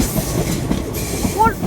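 A GWR Class 800 intercity train departs Newport station on the Swansea service, its steady rumble and rail noise filling the platform at close range, with faint high squeals from the wheels near the end.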